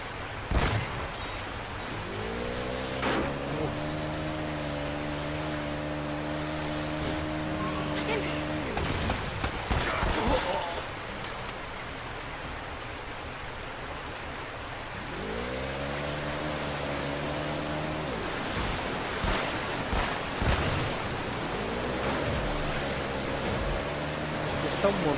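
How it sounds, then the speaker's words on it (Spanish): In the Uncharted video game, a motorbike is swept along by a river current: a steady rush of water runs throughout while the engine rises in revving bursts, with gunfire cracks and a voice talking over it. "Nos cuesta un montón dominar la moto con la corriente"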